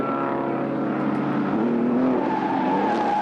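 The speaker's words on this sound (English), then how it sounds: "And Richard has spun it" Pre-war racing car at a vintage race meeting spinning off, engine note steady and loud with a brief tyre squeal midway, continuous and close throughout.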